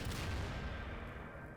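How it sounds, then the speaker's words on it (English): White phosphorus artillery explosion from a Garry's Mod explosion replacer mod: a loud, booming blast with a dense low rumble that rolls on and slowly fades over a second and a half, with no voices. "The WP artillery."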